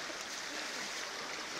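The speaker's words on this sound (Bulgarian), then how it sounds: "вижте Владо да не отплува с реката." A flowing river makes a soft, steady rushing and burbling of water. The sound is faint and continuous, with no voices.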